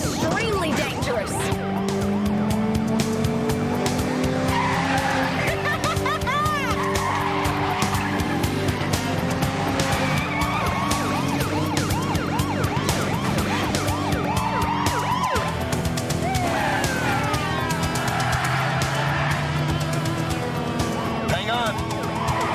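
A police pursuit of a black Pontiac Firebird, with wailing sirens and repeated tire skids over a steady car engine roar, loud and continuous throughout, mixed with dramatic music and occasional voices.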